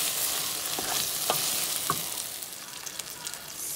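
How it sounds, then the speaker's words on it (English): Pasta sauce for lasagna left to simmer in a pan, a steady bright hiss of bubbling and sizzling with a few soft pops or taps early on, close and unbroken by voices. "So now I'm leaving this to simmer."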